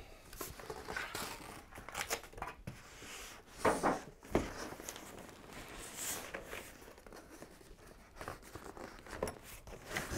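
The packaging box of a UDOS 51E polisher is ripped open by hand, with close, fairly quiet crinkling, tearing and cardboard rustling that comes in irregular bursts over about ten seconds.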